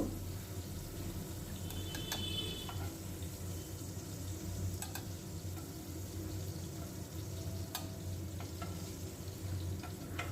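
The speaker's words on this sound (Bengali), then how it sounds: "পনিরগুলো ভেজে নিচ্ছি" Paneer cubes frying in a pan with salt and turmeric, giving a steady, close sizzle with scattered small crackles and pops throughout.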